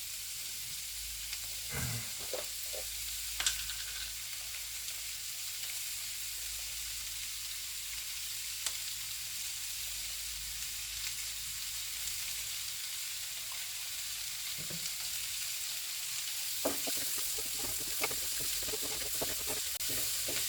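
Nendra banana chaat with salt and Gandhari chilli sizzles steadily in a pan. A low, continuous frying hiss is broken by occasional scrapes and clicks of stirring, with no voices.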